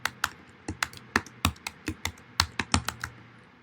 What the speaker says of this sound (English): and then when you're typing